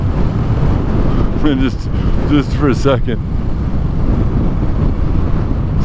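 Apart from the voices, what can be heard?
wind blowing outdoors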